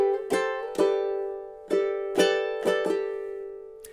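Ukulele strumming measure 11 of a tune, with about seven bright strums in an uneven rhythm, each ringing out briefly, close and clear with no voice over them.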